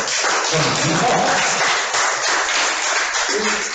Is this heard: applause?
yes